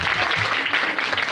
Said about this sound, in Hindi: अब बजाओ तालियां।